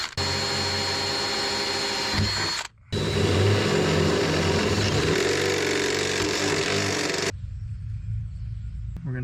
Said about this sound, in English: now just drill this out with an 1/8 inch drill bit.